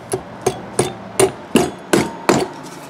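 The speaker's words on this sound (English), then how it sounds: "take our drill bit, tip it in backwards, and just tap that in" A drill bit set backwards into a seized brake bleeder is struck by a hammer, giving seven sharp metallic taps at an even pace, close and loud with nothing else heard.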